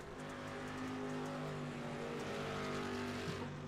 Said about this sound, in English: let's get the cars engine sounds on the broadcast